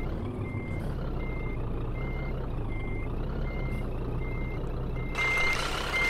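Truck reversing alarm in Scania Truck Driving Simulator, steady evenly spaced beeps repeating about every 0.7 seconds over a constant low diesel engine idle, with a short air hiss near the end.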